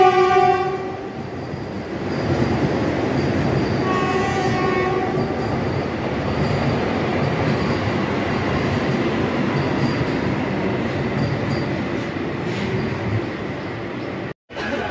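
The Vande Bharat Express, train 20871 from Howrah to Rourkela, rolls in along platform 2 with a horn blast at the start, then a loud, continuous rumble of wheels and carriages close by.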